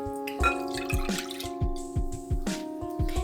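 Warm milk is poured from a glass into a bowl for a cotton-soft pastry dough, heard as a close series of splashy drips and trickles over a steady background hum.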